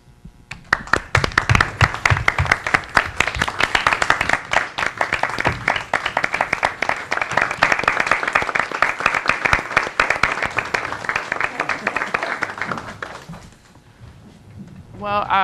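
Sustained applause from the audience and board at a school board meeting honoring a retiring staff member. Many hands clap steadily for about thirteen seconds, then fade into quiet room sound with a brief voice at the end.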